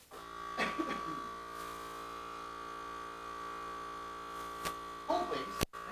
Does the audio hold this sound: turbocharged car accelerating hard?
no